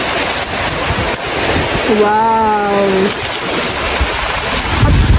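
Steady rain pours down in a dense, even hiss that lasts throughout. Partway through, a voice lets out a brief exclamation.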